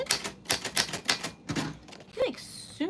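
Rapid clacking keystrokes on a vintage typewriter, close and crisp in quick bursts, ending with the ratcheting zip of the carriage or platen being turned.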